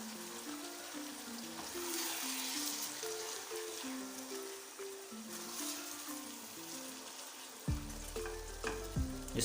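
Mutton keema with peas frying in a pan, a steady sizzling crackle with stirring scrapes, heard alone under soft background music that briefly swells near the end.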